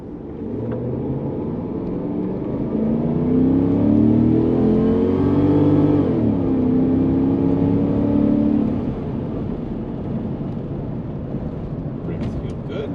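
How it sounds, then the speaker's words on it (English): A 1995 Oldsmobile Aurora driving and accelerating, its engine rising in a smooth steady drone with rolling road rumble throughout, the pitch climbing and then easing off as the car settles into cruising. "That's a couple minutes spent driving the Aurora."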